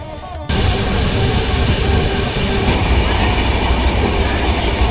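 A train running on the way to Kolhapur, heard from inside the carriage: a loud, steady rumble with rhythmic clickety-clack of the wheels on the rails, with no talk over it.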